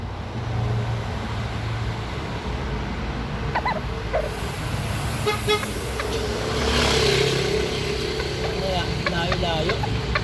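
A vehicle horn honks in a few short toots outdoors amid road traffic noise, with people talking nearby.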